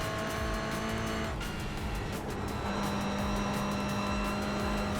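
A race car in the iRacing sim runs wide onto the gravel trap, tyres rumbling and scrabbling over a steady loud engine drone, with a brief skid-like hiss partway through.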